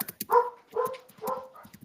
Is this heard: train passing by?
no